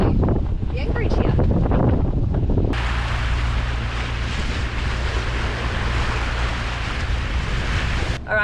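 Wind blows over a sailboat at anchor in Playa Santispac in the Sea of Cortez, a loud, steady rushing roar that shifts abruptly partway through, then holds constant.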